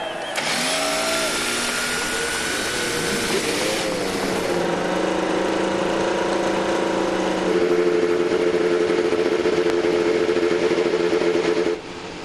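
Several IndyCar race car engines running on Iowa corn ethanol fire up and rise into a loud, sustained multi-engine roar with shifting revving pitches, rumbling steadily for about twelve seconds before easing slightly at the end.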